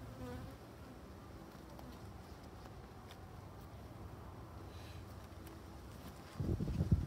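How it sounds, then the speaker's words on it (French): Honeybees buzzing around an open hive frame of a Buckfast-descended colony, including drone bees near drone brood, honey and pollen; a faint steady insect hum close by, with a louder handling rustle near the end and no speech. "Là, ici, on a un faux bourdon."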